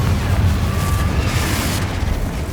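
Confringo blasting spell detonating in Hogwarts Legacy, a loud, sustained roaring boom with no speech over it.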